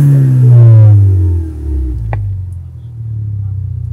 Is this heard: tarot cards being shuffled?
no